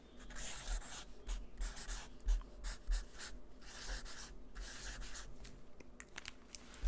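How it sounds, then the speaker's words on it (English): A pen writes a name on paper close to the microphone, with soft scratchy strokes coming in short bursts separated by brief pauses. "I'm going to write it down here."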